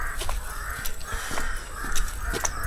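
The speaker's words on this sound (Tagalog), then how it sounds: "may uwak" Crows caw repeatedly in short harsh calls at moderate distance over a steady outdoor background near a waterfall trail in Nagcarlan, Laguna.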